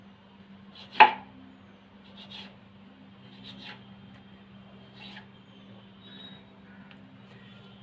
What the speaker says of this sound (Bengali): এইভাবে মুড়ে নিয়ে এবার চাকু দিয়ে কেটে নেব